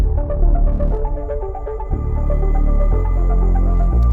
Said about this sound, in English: some of the arpeggiated synth elements that we have